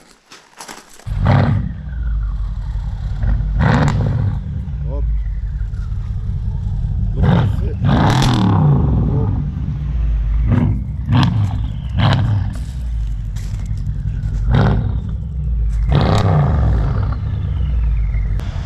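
A Mercedes CLS 63 AMG fitted with a new complete exhaust line starts up and revs. Loud, close roaring bursts rise and fall repeatedly over a deep rumble, with brief voices between them.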